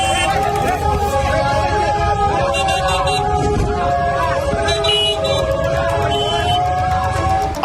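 An ambulance carrying a patient sounds its horn over and over at a bike blocking the road. The loud, sustained tones carry on through traffic noise while voices talk over them.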